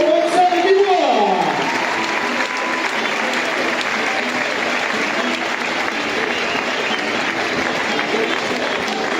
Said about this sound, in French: Je vous demanderai d'applaudir très très fort pour la manade de Vitou, Roxane Dubois.